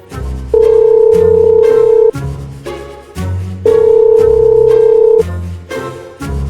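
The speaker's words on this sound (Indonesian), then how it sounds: "Coba gua telepon dulu deh Setianya ya." A telephone ringback tone repeats during a call in an animated film, with two long steady rings separated by pauses, loud and clear with no talk over it.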